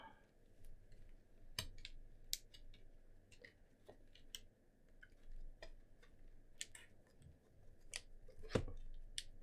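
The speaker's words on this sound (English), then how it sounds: "Just want to try to hear the clicking of the switches," Switches clicking on a Monokei KFE CE polycarbonate mechanical keyboard, quiet irregular sharp ticks scattered over several seconds against a low background hum.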